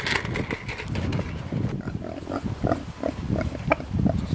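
Pigs grunt and snort in a steady stream of short, low, rough calls close by, overlapping one another with no talking.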